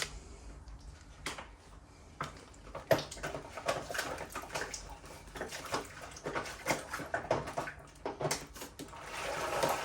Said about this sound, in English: So let's give this another rinse.